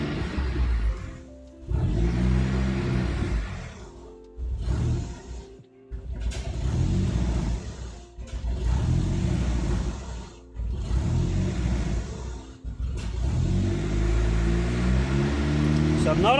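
A car engine converted to turbo struggles at idle in a garage, surging and dropping in uneven rough bursts with gaps between them, while a person talks over it.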